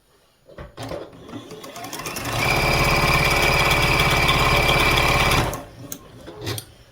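A sewing machine stitches a quilt's tree trunk segment, a few short starts and clicks building into a loud, steady, close whirring run of stitches before stopping, followed by light handling.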